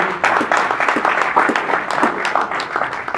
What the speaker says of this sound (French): Acclamons un peu pour cette famille.